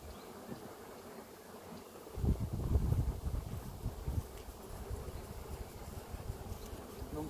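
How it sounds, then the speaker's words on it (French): Honeybees, mostly foragers, buzz around an opened hive during the installation of a new swarm: a steady insect drone that swells louder for a moment as bees pass close, with wind noise over the microphone and no talking. "Les abeilles qui sont un peu volatiles, les butineuses principalement, vont revenir."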